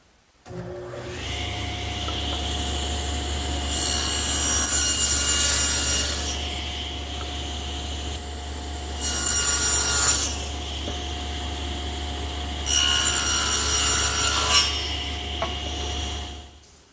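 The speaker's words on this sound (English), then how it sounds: "Now I've removed my regular table saw blade and installed this adjustable dado head" A table saw fitted with an adjustable dado head hums steadily, then cuts wood in three separate passes, each a loud, bright rasping burst of a few seconds over the motor's constant drone.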